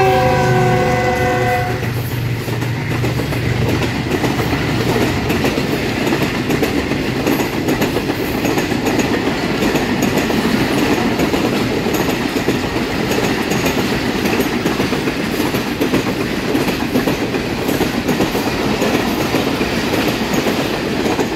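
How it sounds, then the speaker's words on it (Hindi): A Karakoram Express train passes through Farooqabad railway station at about 55, opening with a horn blast before a loud, steady rumble and rattle of carriages that fills the rest of the clip. "आपके सामने काराकरम एक्सप्रेस आ रही है और 55 की स्पीड पे जा रही है"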